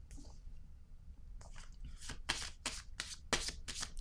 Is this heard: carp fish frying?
no